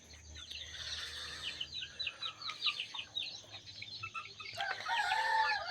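Chickens in small backyard coops cluck and chirp in a busy, overlapping chorus, with a rooster crowing partway through and another burst of calls at the end, moderately near.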